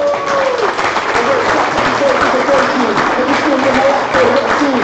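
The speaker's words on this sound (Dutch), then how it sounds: "Mag ik een heel groot applaus voor hun lokale held" Loud sustained applause for a player introduction at an Eredivisie match, a continuous wash of clapping with an amplified announcer's voice carrying over it.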